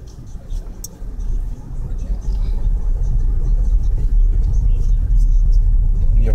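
A car drives along the street with a constant low engine rumble and road drone, building slightly and holding steady, close and fairly loud.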